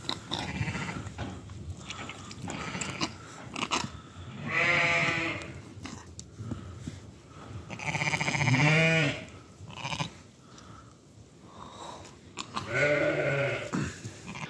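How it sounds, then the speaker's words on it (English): A newborn lamb and sheep on a farm during lambing bleat several times, with fairly close, wavering cries repeated over a background of rustling and shuffling. "A tiny little lamb."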